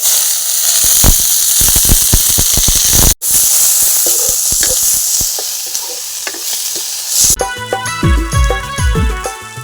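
Garlic and chili sizzle and pop sharply in hot oil, with dense crackling bursts, then onion joins and the hiss settles before a short burst of music cuts in at the end.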